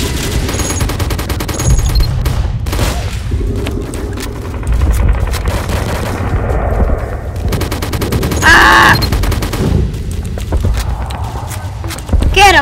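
Rapid gunfire in a Roblox game about attacking muffins, loud clattering bursts of shots mixed with game noise and background music, with a player's voice over the shooting.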